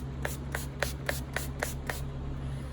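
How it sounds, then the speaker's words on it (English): Makeup Revolution Glow setting spray misted from a pump bottle in seven quick, evenly spaced bursts, each a short bright hiss, close and clear over a low steady hum. "This setting spray is by Revolution."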